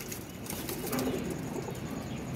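A breeding pair of pigeons with a Jaldar Missi female gives soft, low cooing and faint fluttering, a steady close murmur with no voices.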